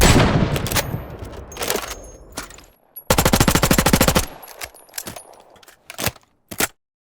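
Punchy designed rifle gunshot sound effects, including an SKS and a sniper rifle, ring out, including a rapid burst of automatic fire, followed by a few scattered single shots with sharp metallic clacks between them.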